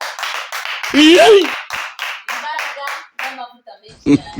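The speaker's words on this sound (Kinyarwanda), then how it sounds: "Amashyi cyane." A church congregation claps for a preacher, sharp hand claps scattered under loud, excited speech from a voice leading the worship.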